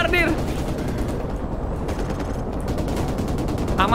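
Dense, loud gunfire in the game Call of Duty Modern Warfare Remastered, with rapid automatic bursts rattling continuously throughout.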